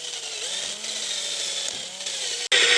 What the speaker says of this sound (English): I'm going to go with the speedy option and just use a drill brush.